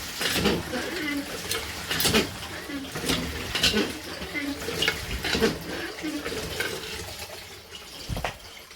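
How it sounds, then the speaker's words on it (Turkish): Water drawn up from a well and poured out, splashing and gurgling steadily with repeated sloshing bursts, close by, while someone talks over it. "Tekrardan biraz daha su çekiyoruz."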